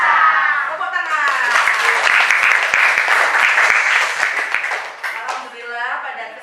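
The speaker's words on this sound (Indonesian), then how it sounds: "Tepuk tangan." An audience in an Islamic religious education lesson bursts into sustained hand clapping, dense and loud for several seconds with voices mixed in, then tapers off.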